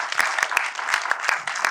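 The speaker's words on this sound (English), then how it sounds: "Let's give a round of applause to Mr." Literature festival audience applauding a guest, dense continuous clapping from a large crowd with a few distinct louder claps standing out, steady and close throughout.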